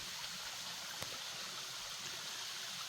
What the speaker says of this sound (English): still, that's a pretty cool waterfall.